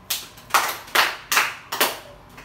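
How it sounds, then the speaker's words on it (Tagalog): A classroom of pupils claps in unison five times, sharp evenly spaced group claps about half a second apart with brief quiet gaps between them. "Bigyan ng 5 palakpak si Karel."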